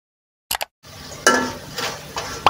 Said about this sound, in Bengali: সাউন্ড শুনে নিশ্চয়ই বুঝতে পারছেন আমার ফ্রেঞ্চ ফ্রাইগুলো কতটা ক্রিস্পি হয়েছে